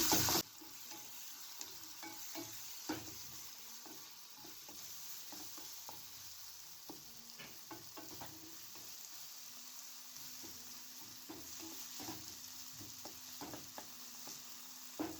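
Tomatoes sizzle and fry with masala in a pan while a spoon stirs and scrapes intermittently, close and steady with no talking.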